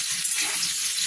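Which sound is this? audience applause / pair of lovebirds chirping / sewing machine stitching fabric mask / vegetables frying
vegetables frying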